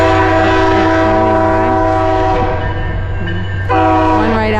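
A South Coast Rail train at the Berkley crossing at night sounds a loud, sustained horn close by, the blaring chord holding steady for several seconds with a brief dip before swelling again over rumbling wheels.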